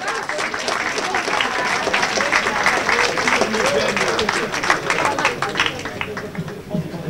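A crowd applauding the coaches of a football club's youth section at its season presentation, a sustained, even wash of many hands clapping that runs steadily throughout, with a voice faintly mixed in.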